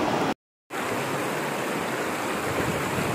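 A river in Tanay, Rizal rushes over slippery rocks in a steady, full broadband wash, close and loud, broken by one short silent gap near the start.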